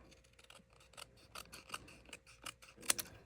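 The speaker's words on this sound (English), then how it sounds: "we're going to grab our scissors. And we're going to go ahead and just trim her off." Scissors snip through paper while trimming a Halloween paper collage, a series of close, crisp cuts at an uneven pace with a sharper snap near the end and no voices.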